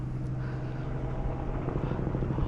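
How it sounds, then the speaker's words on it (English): A police helicopter searching for a suspect drones overhead, its steady low rotor thrum and engine hum continuing throughout at moderate distance. "I heard helicopters"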